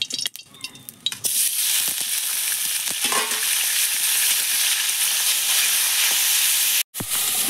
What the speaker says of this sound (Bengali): তেলটা গরম হয়ে গেছে, মাছগুলো আমি ভালো করে ভেজে নেব।